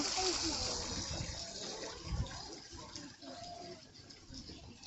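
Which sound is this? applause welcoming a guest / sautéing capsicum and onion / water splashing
water splashing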